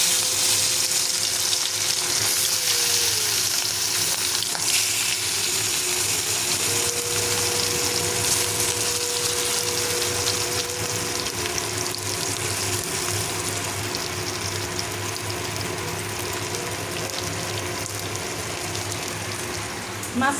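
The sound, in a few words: rohu fish frying in hot oil in wok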